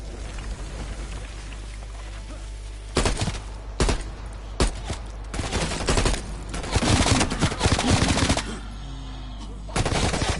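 Bursts of gunfire from Call of Duty Zombies, sharp broadband volleys and rapid automatic runs arriving in clusters over a steady game ambience, loud and close.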